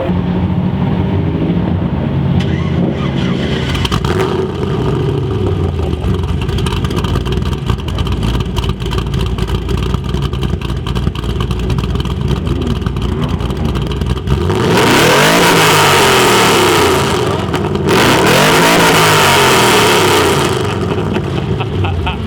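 A Mazda RX-8 with a swapped 5.3-litre LS V8 idles loudly and close, then revs hard in two long sweeping bursts with a deep, roaring exhaust note before settling back.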